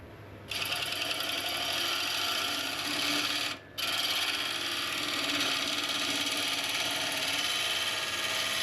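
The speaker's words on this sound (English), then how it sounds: "I'm just doing some scraping cuts, just blending back towards me." A wood lathe takes scraping cuts on a redgum burl bowl, giving a steady close hissing rasp with one brief pause partway through.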